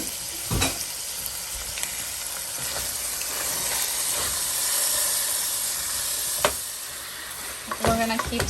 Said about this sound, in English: We're gonna keep stirring until it gets brown